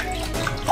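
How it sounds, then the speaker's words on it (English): Milk pours steadily into a saucepan in a kitchen, a short, soft, continuous liquid splash heard close up. "Let's pour 400 milliliters into a saucepan"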